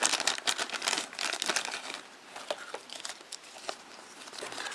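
A small plastic baggie of toy parts from a G.I. Joe Rise of Cobra vehicle pack is opened, with close crinkling and rustling that is busiest at the start and thins to lighter, sporadic crackles.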